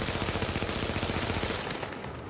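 Continuous, dense rapid gunfire from The Division shooter game, loud and close, forming a steady rattling barrage that cuts off and tails away near the end.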